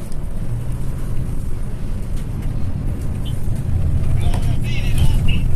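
A Sembodo Executive Plus bus in a convoy, heard from inside the cabin, gives a steady, loud rumble of engine and exhaust that swells slightly toward the end, with people talking over it.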